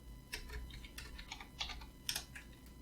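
Typing on a computer keyboard, quiet scattered keystrokes tapping in short irregular clusters over a low steady background hum, fairly close and soft.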